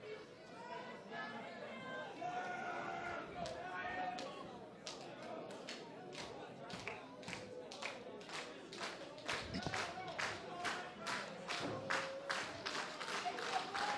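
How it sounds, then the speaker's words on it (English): Pro wrestling crowd at a live indoor match cheering and clapping for both competitors, a steady roar of voices with a long run of sharp, rapid handclaps building near the end. "I think they're cheering both the competitors right now"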